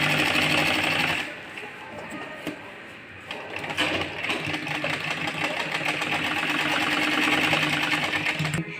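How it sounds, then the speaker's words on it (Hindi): A sewing machine runs close by, stitching a ladies' pajama in a steady loud whir. It pauses briefly after the first second, then resumes and holds a continuous even drone to the end. "अब हम इस पर भी सिलाई लगा लेते हैं।"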